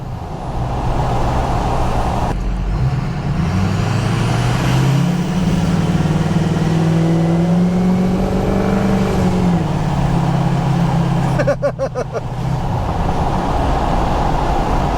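An old truck engine with 300,000 miles idles close by, then revs up and holds a strained, rising drone before settling back, loud and steady, with no talking.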